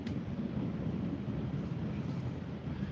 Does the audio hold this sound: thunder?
yes